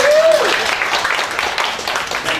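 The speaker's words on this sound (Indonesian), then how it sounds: "Tepuk tangan untuk Anda semua." An audience applauds in a hall, a broad wash of many hands clapping at moderate loudness, with a brief tonal sound at the start and the clapping thinning slightly toward the end.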